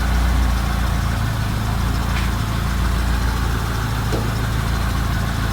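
A Mitsubishi 4G13 car engine idles steadily at 800 RPM, a loud, continuous low rumble with an even, unchanging drone throughout.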